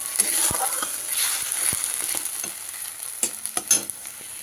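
Tomato paste frying in a pan while it's stirred, a soft steady sizzle broken by scraping strokes and small clinks of the spoon.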